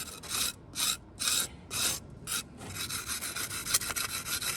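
Stone repair mortar scraped along a parapet, a rough rasping stroke repeated about five times in a rhythm, then a continuous grainy scraping, close and fairly quiet.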